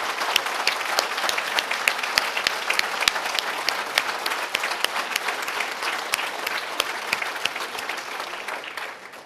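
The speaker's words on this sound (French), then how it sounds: "Je voudrais vraiment qu'on les applaudisse très fort," A crowd at a political campaign rally claps loudly and steadily, a dense patter of hands filling the room for several seconds before starting to fade at the end.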